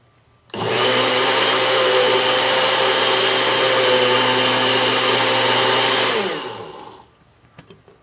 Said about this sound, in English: Now let's blend it up just a little bit more.